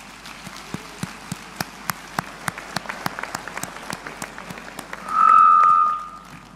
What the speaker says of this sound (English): let us give Mrs. Enriquez a round of applause